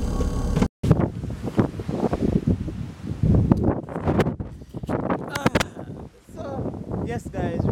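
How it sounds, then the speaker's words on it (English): Wind buffets a microphone at a beach, with gusty rustling and surf beneath, broken by a brief dropout, while people talk over it. "we are here at the beach"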